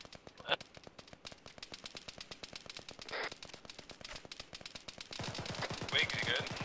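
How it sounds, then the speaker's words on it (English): A .50 caliber machine gun fires in Arma 3, with rapid, sustained, evenly spaced shots that run unbroken through the whole stretch and grow denser near the end, while voices are faintly heard. "Someone took the 50 caliber back and he shot us."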